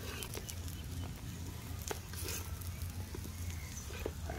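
Slices of banana bread frying in ghee make a soft, close sizzle with scattered small pops and crackles over a low steady background hiss.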